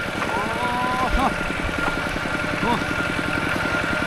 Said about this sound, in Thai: โอ้รถไถเขาลุยไปได้ยังไงทุกคน